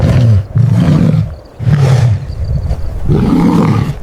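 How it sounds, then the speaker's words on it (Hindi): A lion roars loudly as a story sound effect, three or four deep, growling bursts separated by short pauses, close and powerful with nothing else over them. "अचानक शेर ने जोर से धाड़ मारी"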